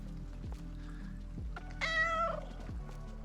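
A cat lets out one drawn-out meow over a steady electronic hum and soft rhythmic thumps, fairly close and clear, with no talk.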